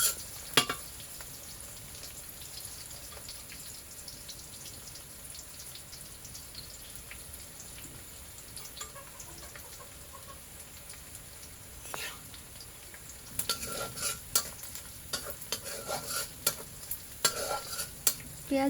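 Sliced onions frying in a pan for a pangas fish dish, a faint low sizzle under intermittent stirring, with louder scraping and clattering of the utensil in the later seconds.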